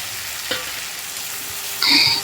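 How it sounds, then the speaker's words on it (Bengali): Tomato paste hitting hot oil in a pan with ginger for a paneer dish, a quiet background sizzle with a soft clunk, then a brief bright burst of hissing and spattering near the end. "এবার যে টমেটো নিয়েছিলাম তার একটা পেস্ট বানিয়ে ওই তেলের মধ্যে দিয়ে দিলাম"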